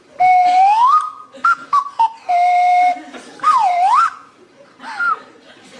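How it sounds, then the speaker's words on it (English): A wooden whistle blown in several short phrases, sliding up and down in pitch with breathy, hooting tones, close and fairly loud. "a selection of fully renewable wind and calorie-powered woodland whistles to attract my attention"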